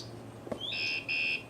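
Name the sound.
bike alarm buzzing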